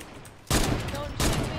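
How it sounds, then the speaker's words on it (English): Two loud, sharp sniper rifle shots in the Fortnite video game, about 0.7 seconds apart, each followed by a short ringing decay over low background game noise. "we can just be sitting here sniping"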